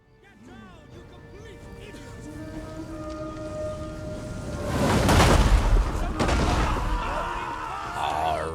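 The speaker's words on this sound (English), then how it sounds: "the onager from the Empire of Nicaea is just raining down on my militia swordsmen" Onager siege artillery bombardment in the medieval strategy game Medieval Kingdoms 1212, battle noise building steadily before heavy booming impacts crash in around the middle and keep rumbling, with tonal battlefield sounds layered through.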